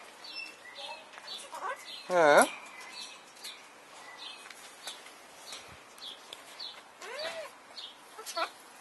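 Pet bird chirping indoors near an open cage door, with short bright tweets and a louder burst of rapid calls, mixed with quiet talk from a person nearby.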